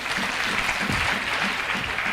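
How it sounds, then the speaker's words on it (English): Applause from a university audience at a freshers orientation, a dense continuous wash of many hands clapping steadily throughout, fairly loud with no talk over it. "Let us heavily clap for the good president."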